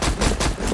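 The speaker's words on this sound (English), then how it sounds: "let's see if we can shoot some people" Rapid automatic gunfire in the shooter game Blood Metal, set in a city: a loud, dense burst of about four closely spaced shots in under a second, with no pause between them.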